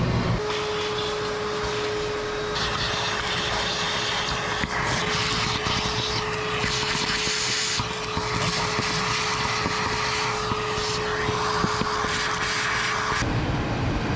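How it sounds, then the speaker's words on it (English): Shop vacuum sucking debris out of the rocker panels of an old Chevy truck, a loud steady roaring whine with a constant tone that holds for about thirteen seconds, the pitch shifting slightly as the nozzle moves. "Something I really want to do is vacuum off these rockers, man."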